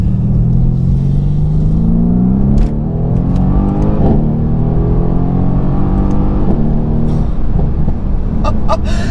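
Mercedes-AMG C63 S safety car with an AMG sport exhaust, revving hard with rising and falling engine notes, loud and close, and a few sharp crackles and pops near the end.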